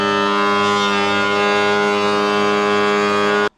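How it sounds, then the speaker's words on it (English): A planer runs steadily on reclaimed timber boards, giving a loud continuous tonal whine with a strong mechanical hum that holds even throughout and then cuts off abruptly at the end. "So I'll stick them all through the planer now and see what they come up like."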